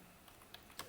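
Faint, sparse keystrokes on a computer keyboard while code is typed, a few soft clicks in quick succession with nothing else around them.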